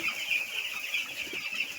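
A flock of chickens lying about on a hot day makes a steady, soft clucking murmur over a constant background hum, without any talk.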